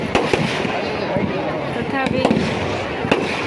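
Firecrackers burst during a Ravan effigy burning in Jharsuguda, with several sharp, loud cracks and pops scattered over continuous crowd chatter and people talking nearby.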